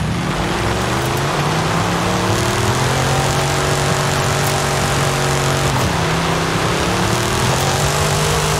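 Loud car engine with a newly swapped exhaust in Forza Horizon 5 idles and revs, its pitch climbing and dipping in smooth sweeps with a brief drop midway, no talking.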